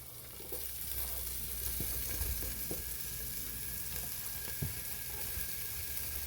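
Jalapeno and garlic fry in oil in a pot while cooking Creole jambalaya, giving a soft, steady sizzle with a few faint utensil taps, fairly quiet and alone.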